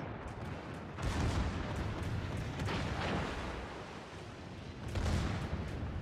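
Battleship secondary guns firing in World of Warships, heavy booming salvos with rumbling blasts near the start and again toward the end over a continuous low battle roar.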